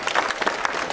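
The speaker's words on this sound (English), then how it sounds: "Let's all give them a big round of applause." Audience applause for a foster care panel of women, dense sustained clapping from a crowd filling the room with no voices over it.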